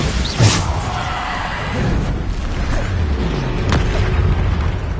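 Bombarda spell explosions in the video game Hogwarts Legacy, a heavy boom followed by several more bursts and crashes amid ongoing combat effects, loud and close.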